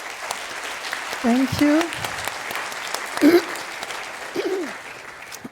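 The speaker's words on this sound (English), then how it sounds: "applause by you to welcome them" Conference audience applause welcoming two speakers onto a stage, a broad, steady patter of clapping throughout while a couple of voices speak briefly over it.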